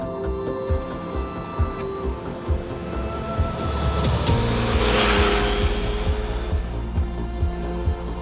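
A Yamaha motorcycle riding into a canyon, its engine a steady close drone with rhythmic low pulses, swelling into a louder rushing roar of wind and engine midway through and holding to the end, no talk.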